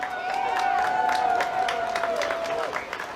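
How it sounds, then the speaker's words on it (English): An audience at a youth summit gives a round of applause for event sponsors, scattered clapping running under a sustained tone, with a voice speaking as it fades. "Let's give them all a round of applause."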